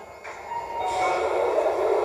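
A Tokyo Metro subway train runs with a steady rushing hiss and rumble that builds and holds, heard from inside or close by with no talk.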